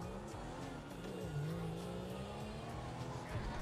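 A four-door car in GTA Online drives steadily, its low engine rumble holding throughout with slight rises in pitch, and faint tire noise underneath.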